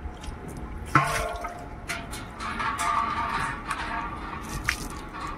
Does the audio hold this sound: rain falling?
no